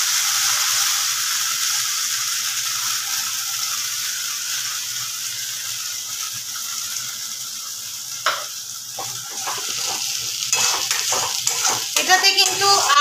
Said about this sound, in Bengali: সুন্দরভাবে মশলাটা কষে নেব।